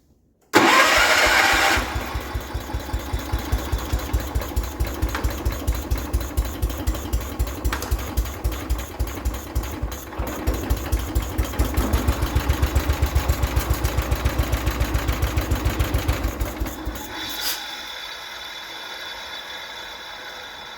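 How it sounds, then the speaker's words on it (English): A 1973 John Deere 140 H3 garden tractor engine, a barn find, cranks briefly then fires and idles loudly with a steady, rapid chugging pulse for about fifteen seconds before shutting off, leaving quiet. "As long as we still have spark, this thing should be ready to pop off and fire up."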